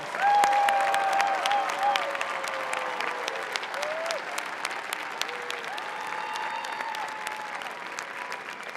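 Sustained applause from a large commencement crowd honoring graduates at Ohio University's fall ceremony, dense and steady throughout, strongest at the start and easing slightly, with faint tonal sounds drifting over it.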